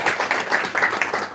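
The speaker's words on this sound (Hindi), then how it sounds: "जोरदार तालियां।" Thunderous applause from an audience at a Hindi Christian satsang gathering, a dense burst of many hands clapping together at close range.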